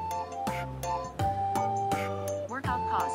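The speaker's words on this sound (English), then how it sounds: "As the bells continue to ring." Bells ring in steady, sustained tones with harmonic overtones, sounding clear and close, while several voices talk over them throughout.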